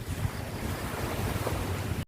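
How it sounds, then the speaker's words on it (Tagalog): Sea waves wash continuously on a shore at a seaside resort in Atimonan, Quezon, a steady loud rush mixed with wind buffeting the microphone, no voices, ending abruptly. "Yan dagat"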